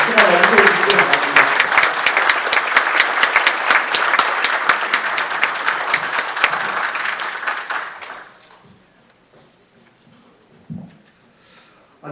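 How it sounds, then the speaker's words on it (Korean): A crowd at an election hall claps loudly for about eight seconds before a welcome speech, then the applause dies away into near silence with a few faint scattered sounds. "박수로 맞이해 주시기 바랍니다"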